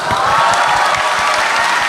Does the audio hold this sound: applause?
yes